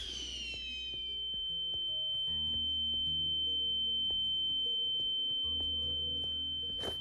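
Acoustic flare from the AOT HELOS mod in Minecraft gives a loud, sustained pure whistling tone after a brief rising chirp, steady for several seconds over a low, rumbling game backdrop.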